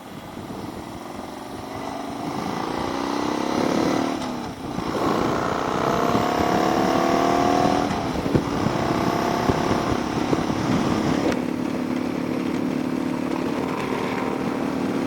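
A motorcycle with a loud exhaust rides outdoors, a close steady engine drone with rising and falling revs as it shifts, carrying on continuously with some wind noise.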